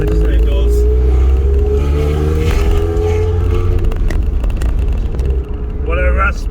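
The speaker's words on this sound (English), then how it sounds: "What a raspy, aggressive, I'm in a proper sports car kind of sound this is." A Mazda Eunos sports car engine growls and revs raspily while driving, a loud rough drone with a voice speaking over it near the end.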